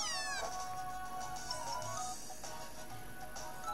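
A Pokemon in the Pokemon Moon video game meows in high, plaintive cries, with one longer call at the start and shorter repeated mews after it over faint game background sound.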